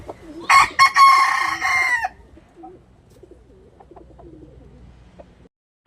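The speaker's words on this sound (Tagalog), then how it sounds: "Napakagandang manok mga idol, bulik." A bulik gamecock lets out one loud, close crow lasting about a second and a half, followed by soft low clucks and quiet shuffling.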